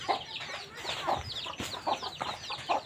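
Chickens cluck in short repeated bursts at a farmyard, fairly close and moderately loud, with a few sharper calls mixed in.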